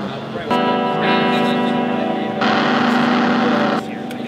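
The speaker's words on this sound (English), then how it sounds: "You can hear the distortion coming through. Add an echo." An electric guitar played through distortion and echo effects processed by a CompactRIO FPGA system, sustained chords ringing out with a buzzy, gritty edge and lingering repeats, loud and clear with no other sounds.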